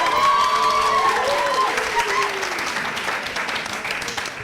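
Audience applause and cheering at a French comedy show, dense sustained clapping with crowd noise and a voice over it, gradually easing.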